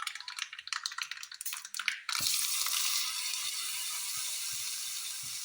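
Light crackling of hot tempering gives way to a sharp, sustained sizzle as liquid is poured into mango pachadi curry, close up and steady.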